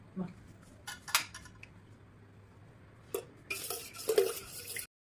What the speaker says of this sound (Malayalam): ഇനി നമ്മൾ കൈ വിടാതെ ഇളക്കിക്കൊണ്ടിരിക്കണം